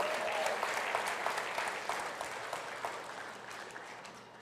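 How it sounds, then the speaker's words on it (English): Audience at a town hall meeting applauding, a dense patter of many hands clapping that starts strong and slowly tapers off over several seconds, with no talking. "Give yourselves a round of applause."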